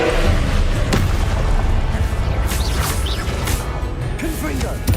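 A spell cast in the Hogwarts Legacy video game, heard as a loud booming magical blast with crashing impacts and whooshing bursts, sustained and dense over several seconds.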